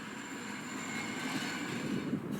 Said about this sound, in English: This is the train coming up from the valley.